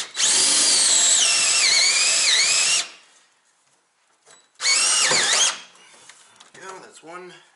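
A cordless power drill drives leftover decking screws in two loud, close whines of rising and falling pitch, the first about three seconds long and the second shorter, followed by a faint voice.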